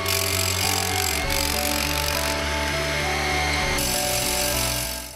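A power drill runs steadily and loudly, boring 25 mm injection holes into the ground beneath a chalet being lifted in Lauenen, a continuous droning whine that shifts pitch slightly without any pause.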